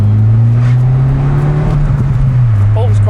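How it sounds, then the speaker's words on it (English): Mini hatchback engine pulling under acceleration, a steady loud drone with a shifting pitch, with small crackles and pops on the overrun toward the end. "There's little crackles and bangs on the overrun, which is quite nice."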